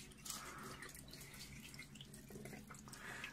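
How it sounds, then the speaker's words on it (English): Lukewarm tap water running and splashing over a 12-inch telescope mirror during rinsing, a steady stream with scattered drips and spatters, continuous and close, with no talk. "now I just use the water, tap water, lukewarm tap water, to"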